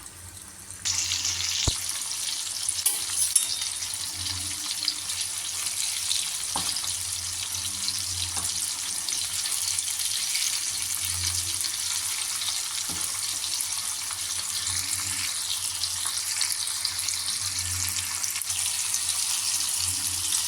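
Murrel fish frying in hot oil, a dense, steady hiss and sizzle that holds for the whole stretch with a few faint clicks underneath, close and continuous, no talk.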